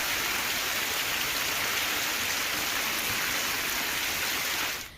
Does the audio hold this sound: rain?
yes